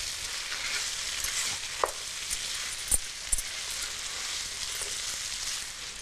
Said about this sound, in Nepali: यो आलुलाई पनि एकछिन भुट्ने